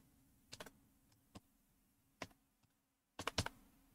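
A few scattered keystrokes sound on a computer keyboard while an address is typed into a Microsoft Word document. The isolated clicks are followed by a short burst of quick taps near the end, over a faint steady hum, with no speech.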